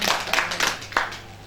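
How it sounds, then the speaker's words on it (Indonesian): A few separate hand claps from a church congregation, close and sharp, trailing off after about a second. "Ya, beri tepuk tangan buat kalian ya."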